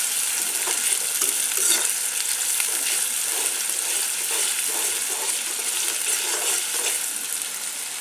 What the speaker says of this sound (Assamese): তেল গৰম হৈ গ'ল পিয়াজ দিলো সব আদা নহৰু পিচি থৈছিলো সেয়া দিলো